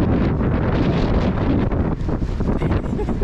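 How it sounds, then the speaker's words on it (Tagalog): Strong, cold wind in Hong Kong roars and buffets the microphone continuously, a loud, rumbling blast with gusty fluctuations and no clear voices. "Grabe, hangin."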